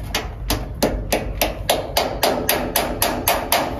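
A hammer strikes a conical steel anchor into a drilled hole in concrete, about a dozen sharp ringing blows in a steady, even rhythm, close and loud with no talking.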